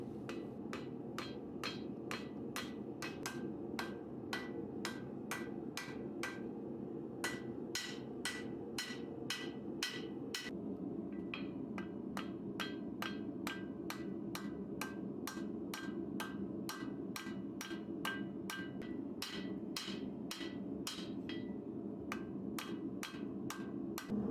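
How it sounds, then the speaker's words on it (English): Rapid, evenly spaced power hammer strikes ring out continuously while forging the tip of a steel knife bar, with a steady mechanical hum underneath and a brief pause midway. "I took it over to the hand hammer and started forging in the tip"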